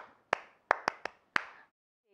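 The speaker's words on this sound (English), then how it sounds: "Clap for yourselves." Five sharp hand claps in an uneven rhythm, close and distinct, then silence.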